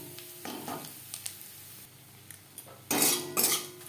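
Coconut frying with tempering spices in a pan for vegetarian moong dal, heard as a metal spoon clattering and scraping against the pan in short bursts, with the loudest clatter near the end.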